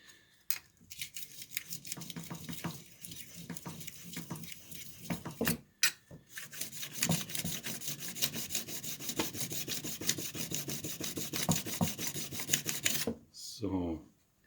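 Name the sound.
card scraper being rubbed against a sharpening stone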